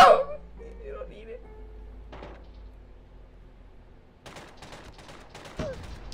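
Gunfire in a COD Mobile 1v1 match: a loud crack at the start, then after a quiet stretch a rapid burst of automatic shots near the end.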